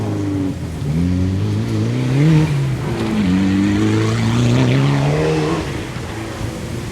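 A Canadian-entered Mitsubishi Lancer Evolution IV rally car launching off a stage start, its engine revving hard through rising and falling gear pulls, loud and near, then fading slightly as it pulls away.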